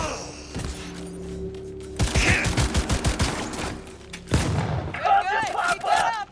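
Weapon fire in Cyberpunk 2077 on PC: a run of quick, punchy shots followed by a second heavier burst, with thuds and combat noise and a voice talking in between.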